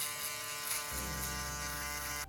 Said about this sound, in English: we will be flicking up and out with our electric shaver